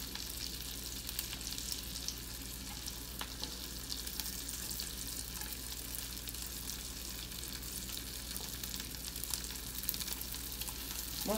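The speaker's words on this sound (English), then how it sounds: "Frying up the onion." Onion fries in a pan, giving a soft, continuous sizzle with faint crackles and occasional small pops, close and steady throughout with no talking.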